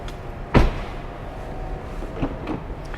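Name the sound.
Mercedes S-Class car door opening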